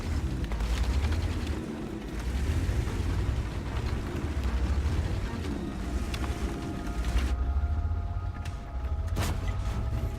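Tank cannon fire exchanged in World of Tanks, heavy booming blasts over a constant low engine rumble, with a couple of sharp shots near the end.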